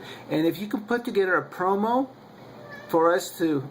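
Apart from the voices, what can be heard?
cat meowing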